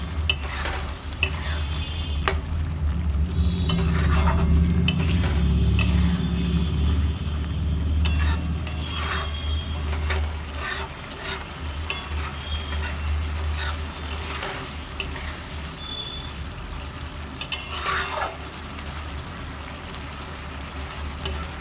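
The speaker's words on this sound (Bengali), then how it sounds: "এবার আমি দিয়ে দিচ্ছি ভেজে রাখা ডিমের ভুজিয়া ভালো করে নেড়ে চেড়ে" Fried egg bhujia stirred and fried in a pan, a continuous close sizzle with frequent sharp spatula scrapes and taps, over a low steady hum.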